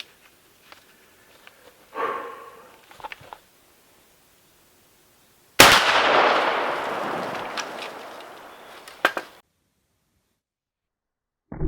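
A 20 gauge shotgun slug is fired at a can of beans outdoors: a single loud, sharp blast with a long, noisy ringing decay lasting several seconds, preceded by faint handling noises.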